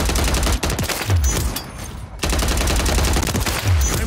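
Rapid bursts of automatic gunfire in a multiplayer shooter game, loud and close, broken by a short quieter gap before the shooting resumes.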